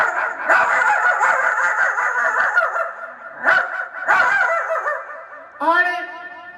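A voice imitates a village street dog barking in a run of loud, close, yelping barks and whines, pausing briefly between outbursts and ending in a higher, strained yelp.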